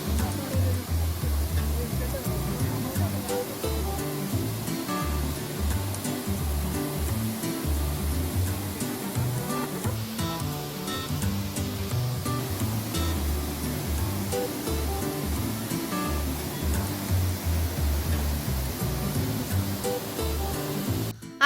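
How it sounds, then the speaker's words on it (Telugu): The Mitta waterfall pours over rocky hills in a loud, steady, unbroken rush of water, with voices and other sounds layered over it throughout. "ఇగో ఇదేమో మిట్ట జలపాతం."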